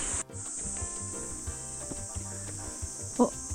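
Insects chirp in a steady, high continuous drone on a mountain trail in Korea, holding level throughout with a faint rustle near the end.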